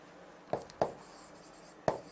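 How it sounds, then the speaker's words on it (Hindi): Writing a note makes three sharp, short strokes or taps spaced irregularly against a quiet background, fairly close and with no talking. "अब यहां पर एक नोट लगाकर लिख सकते हैं, नोट सालिम सिंह,"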